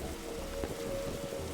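Steady rain patters on a rooftop in the Darkside Detective video game, a dense even hiss heard alone with a faint low rumble beneath and no one talking.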